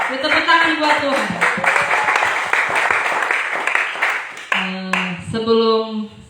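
A Pentecostal church congregation in Papua claps hands together during Sunday worship, a rhythmic, fairly loud clapping mixed with shouting and singing voices that rise over it toward the end.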